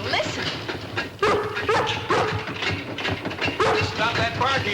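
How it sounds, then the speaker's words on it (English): A collie dog barks repeatedly in a house near a new refrigerator, sharp yelps spaced through a busy background with voices talking. "Stop that barking, girl."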